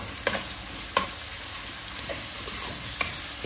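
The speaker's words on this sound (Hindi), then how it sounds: "इसको एक से दो मिनट हम जो है वो इसी तरह ऑयल में हिलाएंगे कि ये प्याज पूरा जो है ये निखर जाए" Sliced onions with a teaspoon of salt frying in oil for an aloo gobi, a soft steady sizzle broken by a few sharp spoon scrapes against the pan.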